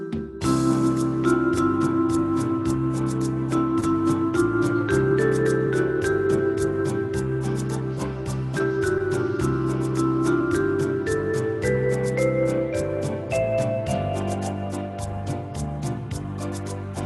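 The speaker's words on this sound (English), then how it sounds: "We have beautiful Latin styles that take place on the Easy 10." Estey EZ-10 keyboard playing a Latin full-band accompaniment style, steady rhythmic percussion with bass and chord patterns and a melodic line, moderately loud and continuous with no talking.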